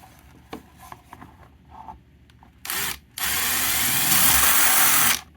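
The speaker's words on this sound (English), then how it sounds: "That's where I'm going to drill the hole." Light tapping and handling, then short bursts of a power drill whirring loudly and steadily for a couple of seconds before stopping, drilling a hole into the center of an AR rifle magazine.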